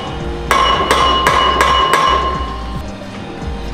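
Five sharp metallic clinks ring out in a quick, even series, close and loud, as exhaust clamps and an X-pipe on a Q50/Q60 car are tightened. A faint low rumble sits underneath.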